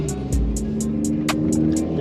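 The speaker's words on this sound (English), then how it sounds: "Driving a Supra." A brand new Toyota Supra driving, its engine a steady low hum with regular ticking pulses above it, close and constant.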